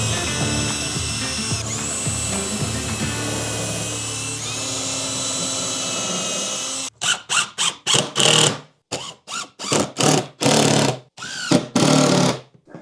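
A power drill drives screws into plywood desk parts, first with a long steady whine, then a series of short, loud on-off trigger bursts as each screw is seated.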